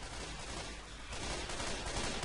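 Gunfire in Left 4 Dead 2, a dense rattle of shots that grows heavier and louder in the second half of a short burst, with no talking.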